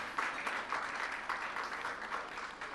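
Warm audience applause fills a hotel hall at a women's summit in New Delhi, a dense, steady wash of clapping from a sizable crowd lasting a few seconds, no voices on top.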